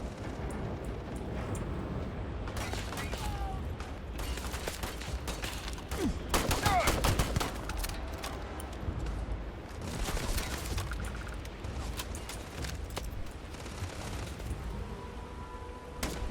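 Sustained gunfire in the sci-fi game Starfield after a stealth approach fails, with dense bursts and booms throughout and heavier volleys near the middle, continuous and loud under faint speech.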